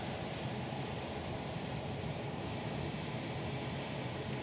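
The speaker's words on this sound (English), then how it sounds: "There's a PC-12 going out now" A Pilatus PC-12 single-engine turboprop departs Honolulu airport, a steady broadband engine roar that holds evenly throughout, mixed with wind-like rushing noise and no voices.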